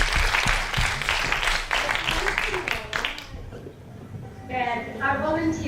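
Audience at a pro bono FuckUp Night event cheers and applauds backstage volunteers, a dense burst of clapping and shouts under lively crowd voices that fades toward the end as a single voice takes over.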